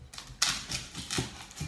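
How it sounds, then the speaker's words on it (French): Knife chopping onions on a board, a few sharp close taps in an irregular rhythm. "On va commencer par découper nos oignons tranquillement."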